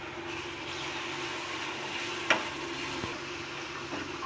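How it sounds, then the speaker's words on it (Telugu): Tomato puree going into a hot pan of fried onions for palak paneer, giving a steady close sizzle with a few stirring knocks and clicks, no voices. "టమాటా ప్యూరీ వేసుకోవాలి."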